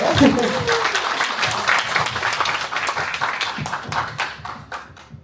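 Seminar audience at a multicultural public forum clapping to welcome a speaker, a lively burst of many hands with scattered sharper claps, while voices and cheers mix in over it.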